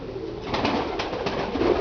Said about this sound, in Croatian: Golubovi takmičari se inače nalaze tu.